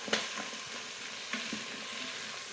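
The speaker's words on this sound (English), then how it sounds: "So we're just gonna saute these for a little bit." Food sautés in a pan with a steady, faint sizzle and a few soft scraping stirs, with no voices.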